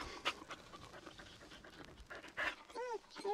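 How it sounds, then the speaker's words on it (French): A dog pants in quick, soft breaths close by, joined by a few high whimpering squeaks toward the end. "Un chien?"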